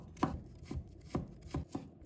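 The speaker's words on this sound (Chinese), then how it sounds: "先把它切成薄片。 再切成细丝" A knife chops peeled raw ginger into fine shreds on a board, five crisp, evenly spaced strikes about half a second apart, close and clear with no voices.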